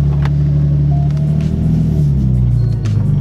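Steady, loud low engine rumble from a BMW 330i with a manual gearbox, driving along, with a continuous drone, a slight dip in tone near the end, and no talking.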